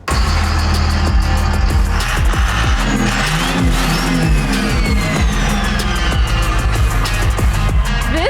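A car engine revs hard and close, rising and falling through several loud throttle sweeps over a rough, continuous running note, with no talk.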